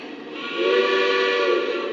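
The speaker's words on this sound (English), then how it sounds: "this whistle is in some of my other legacy Pensy engines, and can't get enough of this one" Whistle of a Lionel Vision Line Pennsylvania Railroad Class A model train locomotive, a steady, loud, close steam-style whistle sustained for about two seconds and swelling partway through, with no talk.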